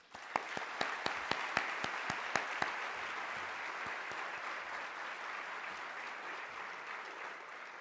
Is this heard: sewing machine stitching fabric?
no